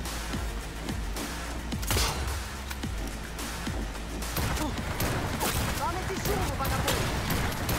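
Rapid gunshots from the video game Cyberpunk 2077 crack in quick bursts over dense game noise and music, with a voice briefly speaking partway through.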